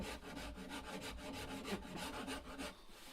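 A wooden guitar neck is carved by hand with a rasp, making quiet, rhythmic scraping strokes at a steady pace of roughly three per second. The strokes are close and heard alone.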